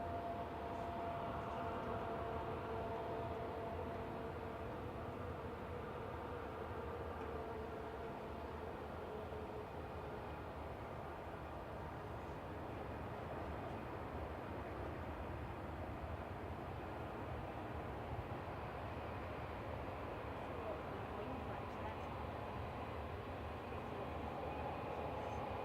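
A Boeing 787-8 on a positioning flight from Belfast lands at Manchester Airport, a steady, broad engine roar holding at an even level throughout, with no voices.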